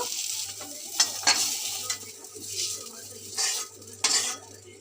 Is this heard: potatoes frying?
yes